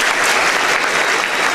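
A roomful of people applauds at an event, loud, dense clapping that holds evenly for the short span without any talk.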